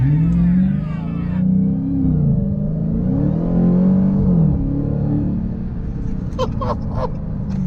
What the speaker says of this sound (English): we're gonna accelerate from the red light in a safe environment, starting now